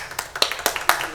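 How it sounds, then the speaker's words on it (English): Scattered claps in a council chamber after a member's budget remarks, a handful of sharp separate hits with gaps between them, sounding more like a few people clapping than full applause. "Morgan should get some applause too"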